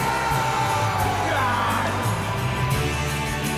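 A 55,000-strong football stadium crowd roars after a Liverpool goal, a dense, loud, unbroken wall of cheering and whooping that holds steady throughout.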